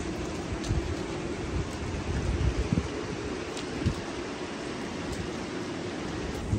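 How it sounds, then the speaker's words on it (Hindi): Heavy rain during a storm in Dubai, a dense steady hiss with low rumbling gusts, loud and unbroken throughout. "अभी देखो बहुत ज़्यादा बारिश"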